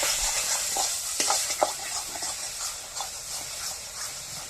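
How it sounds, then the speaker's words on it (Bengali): Grated taro stirred with salt, turmeric, sugar and spices in a traditional village kitchen, a soft continuous hiss under repeated scraping and stirring strokes, fairly close. "এবার শুধু নাড়াচাড়া করে মেশাতে হবে।"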